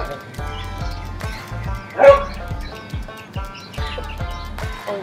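A dog barks repeatedly in short, sharp bursts spread across the moment, close by and fairly loud, with one louder yip near the middle against a quiet indoor background.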